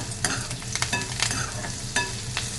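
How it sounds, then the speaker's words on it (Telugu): Onions fry in a pan with turmeric and salt, a constant sizzle broken by sharp scraping clicks of a spatula stirring at an uneven rhythm, close and moderately loud with no talking. "ఈ పసుపు ఉప్పు అన్నీ కలిసి ఆనియన్స్ కొంచెం ఫ్రై అవుతాయి"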